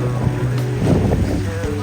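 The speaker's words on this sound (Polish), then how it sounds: "Teraz chłop porwie tą motorówkę." Motorboat on open water, a close, loud engine drone with a steady low hum mixed with wind buffeting and splashing water.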